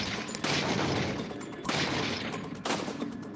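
Gunfire from Resident Evil 4 VR lands in three heavy shots roughly a second apart, each a loud burst with a long echoing decay, over steady game ambience.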